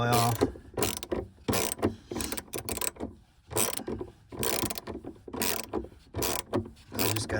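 Ratcheting socket wrench loosening the battery terminal nuts on a 2009-2017 Chevy Traverse, heard as repeated bursts of close, loud mechanical clicking with short pauses between strokes, and no talking.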